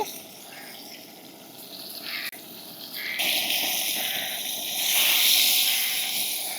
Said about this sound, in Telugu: నూనె మరిగిన తర్వాత బాగా కడిగి పెట్టుకున్న రొయ్యలు నేపాలండి